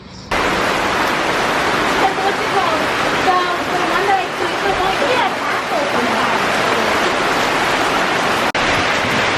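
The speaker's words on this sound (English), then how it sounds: "It started pouring, so we're leaving now." Heavy rain pours down in a steady, loud, dense wash of noise, with voices talking over it throughout.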